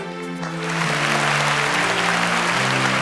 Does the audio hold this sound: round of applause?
yes